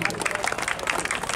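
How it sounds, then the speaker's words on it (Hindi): Audience applause at a Bhojpuri stage program in Buxar, a dense, steady clapping from the crowd that fills the whole moment at moderate loudness. "अपने सम्मान में अपने ताली बजाइए एक बार सभी लोग"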